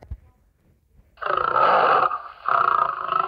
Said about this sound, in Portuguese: Olha o som do leão.